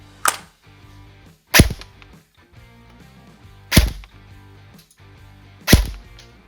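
A CYMA MP5 airsoft submachine gun fires four single shots, each a sharp, loud snap spaced about one to two seconds apart, with quiet pauses between them and no voices.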